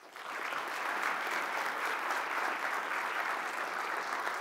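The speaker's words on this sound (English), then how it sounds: "Give them a big, quick round of applause" Conference audience applauding the speakers, a steady wash of clapping that rises quickly in the first half second and holds evenly at moderate loudness to the end.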